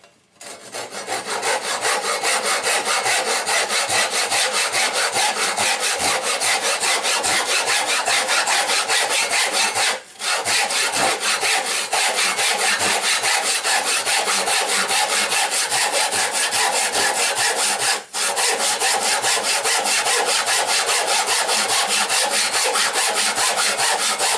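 A Krisbow back saw rasps steadily through wood, with fast rhythmic back-and-forth strokes, loud and close, pausing briefly twice.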